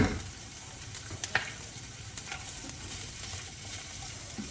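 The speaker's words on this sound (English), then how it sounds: "So I'm just gonna let this kind of saute a little bit" Mini peppers, including orange ones, and onions sizzle in a pan with a dense, steady crackle and a few sharp pops and utensil taps.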